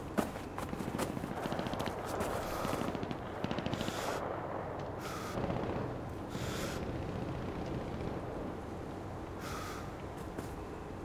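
Gunfire in the battle royale video game CRSED, with scattered bursts of shots and footstep-like clatter at moderate distance over a low background.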